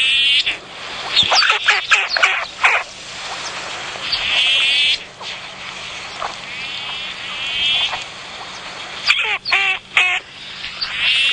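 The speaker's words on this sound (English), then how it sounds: "should we listen to what a red-billed teal sounds like?" Recorded call of a red-billed teal played outdoors at sunrise on safari, giving a series of nasal, squeaky, duck-like notes in short bursts at the start and again near the end, loud and close.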